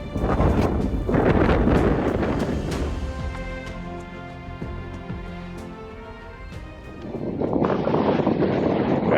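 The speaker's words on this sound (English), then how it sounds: "it was extremely windy here" Strong wind buffets the microphone on an exposed spot near Vík on Iceland's south coast, a loud continuous roar that dips in the middle before gusting hard again, with no one speaking.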